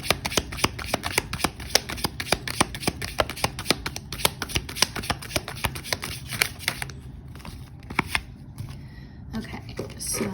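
Tarot cards are shuffled steadily and close by, a dense run of crisp riffling slaps that thins out toward the end, with faint room tone and no talking.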